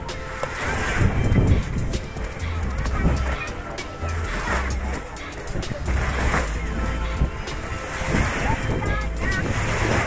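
Waves and wind at Jumeirah beach in Dubai make a steady roar of surf with gusting wind noise across the microphone, continuous for the whole stretch.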